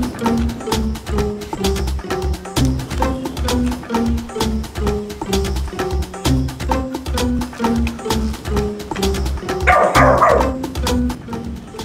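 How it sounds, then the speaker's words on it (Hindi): A dog barks repeatedly in a rapid, rhythmic string of loud close barks, with a brief burst of noise near the end. "कुत्ता क्या चिल्ला रहा है?"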